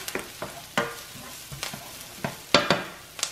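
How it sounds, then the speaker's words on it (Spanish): Onion sizzles in a small amount of oil in a pan while being stirred for a Mexican shrimp-and-nopales dish, close up, with steady crackling frying and repeated sharp scraping stir strokes, no talking. "no tiene tanto aceite. Es nada más poquito para acitronar la cebolla"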